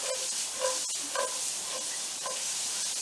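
Cremini mushrooms saute in a hot pan with a steady, close hiss of frying, broken by a few soft stirring scrapes and bubbling pops throughout.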